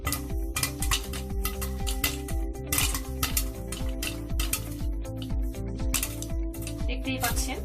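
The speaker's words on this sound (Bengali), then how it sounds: "ভুট্টাগুলো কিভাবে ফুটছে।" Corn kernels pop inside a covered pot, a dense, irregular clatter of sharp hard ticks and knocks against metal, loud and close throughout.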